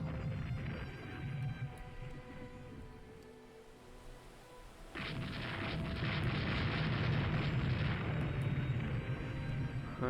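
A torpedo strike in the naval warfare game Rule The Waves 2: a rumbling, battle-filled background gives way to a broad, sustained roaring blast that stays loud and full for several seconds.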